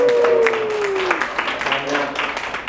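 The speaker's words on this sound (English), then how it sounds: "a big round of applause to you guys" Dense applause fills the room from start to finish after a trampoline fitness class, with a descending whistle-like tone over the first second and voices mixed into the crowd noise.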